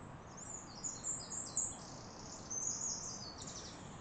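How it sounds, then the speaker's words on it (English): Birds sing outdoors in several high, thin bursts of chirping, faint and somewhat distant over a steady background hiss, with no talking. "There is more wisdom in their bird song than I could ever say."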